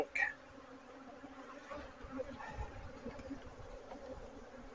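Honeybees buzz steadily around a hive that may have recently swarmed, a soft continuous drone with a brief louder pass near the start and no talk.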